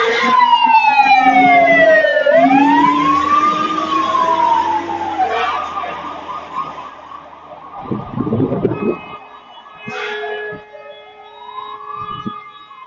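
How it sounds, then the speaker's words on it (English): Fire truck siren passing on a two-lane road, a loud wailing tone sweeping up and down, then dropping and thinning as it moves away, with a short horn-like blast and low rumbles near the end. "There's a fire truck going by in this car."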